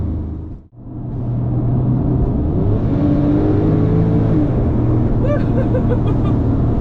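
A 997-generation Porsche 911 Turbo engine drops briefly, then surges into a loud, sustained hard acceleration from about 65 mph with a rising, strained whine and heavy low rumble, heard from inside.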